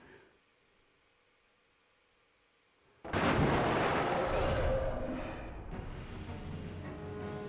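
Quiet game ambience gives way to a sudden loud, sustained roar of gunfire and blasts in Resident Evil 2 on PS1, a dense noisy wash holding for several seconds, with no talking.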